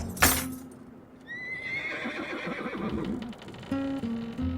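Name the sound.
horse neighing in The Road to El Dorado film clip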